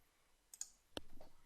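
A computer mouse double click: two quick, faint clicks, then a single sharper click, close and quiet in a calm room.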